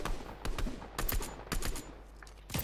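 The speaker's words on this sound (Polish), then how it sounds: "co to za strzały?" Rapid bursts of gunfire crackle in quick succession over a steady background hum, sounding like a volley of shots in a game.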